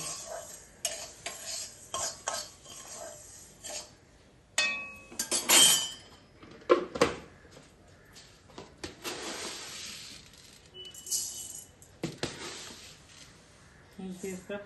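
Broken wheat (dalia) being dry-fried and stirred in a kitchen pan, with intermittent scraping and clinking of a spoon against the pan, irregular and close, alongside a few other kitchen clatters.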